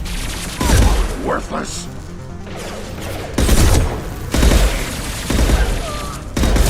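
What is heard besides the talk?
gunfire in Mass Effect 2 video game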